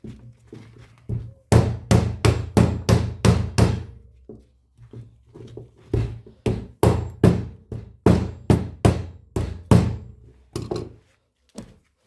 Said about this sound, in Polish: I najprościej taką ceweczkę młoteczkiem